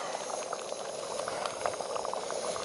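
Water boils in a pot on an MSR Whisperlite camping stove, a faint, continuous bubbling hiss with scattered small pops, heard alone.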